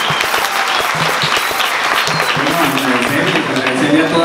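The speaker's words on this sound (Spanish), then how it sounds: "Recibamos con un aplauso a Wilfredo Gómez." A crowd at a political gathering in Arauca, Colombia applauds loudly and steadily to welcome a speaker, a dense continuous wash of clapping with voices mixed in.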